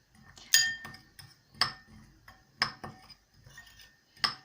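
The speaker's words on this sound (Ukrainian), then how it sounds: "Я перемішую ті всі спеції. Добре перемішати." Spices being mixed in a bowl for salted pork-fat rolls, a few sharp clinks of a utensil against the bowl spaced about a second apart, quiet and close with faint scraping between.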